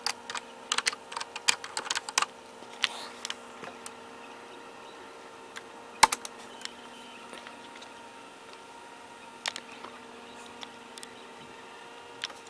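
Computer keyboard typing while a command is entered on a PC: quiet, irregular bursts of key clicks, densest in the opening seconds, then sparse isolated taps with a sharper click near the middle, over a faint steady hum.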